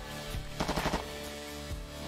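A rapid gunshot skill attack from the video game Long Gone Days fires as a quick cluster of sharp cracks over steady game music, brief and fairly loud, with no talking.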